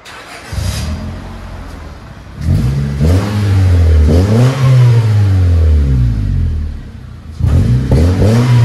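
A 2004 Honda Civic with a stainless steel muffler exhaust revs close and loud, with a short blip, then a long rising and falling rev, then another burst at the end.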